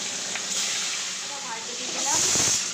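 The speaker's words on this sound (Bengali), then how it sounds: "মাছের মাথাটা ভাজার জন্য" A fish head sizzles in hot mustard oil in a pan, a steady bright hiss that swells louder near the end, with faint speech in the background.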